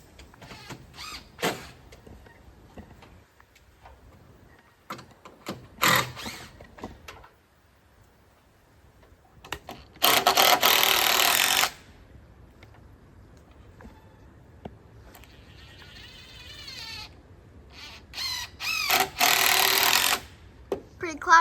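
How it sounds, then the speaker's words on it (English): Power drill or driver screwing a screw into the end of a roof purlin outdoors, bursts of whirring at about 10 and 19 seconds among scattered clanks and handling noise, close and loud. "I'll go ahead and just screw it in"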